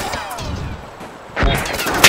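Gunshots ring out in the video game Arma 3, a muffled distant shot early followed by a sharp, louder report and another crack near the end, under ambient game noise.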